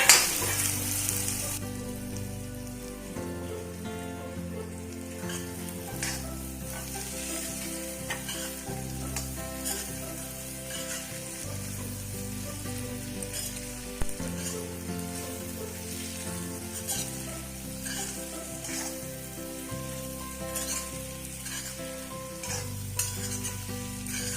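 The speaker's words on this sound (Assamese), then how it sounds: "মাংসখিনি বেছ ভাজ খাইছে, ভজা ভজা নিচিনা হৈছে। এতিয়া মই আলুখিনি দি দিছোঁ।" Pigeon meat and potatoes sizzle steadily as they fry in a pan and are stirred, with scraping stirs over the continuous frying noise and music playing underneath.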